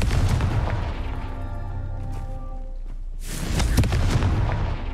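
The Confringo blasting spell goes off in Hogwarts Legacy as a deep booming explosion with crackling bursts. A rumbling first blast is followed by a second loud eruption with sharp pops.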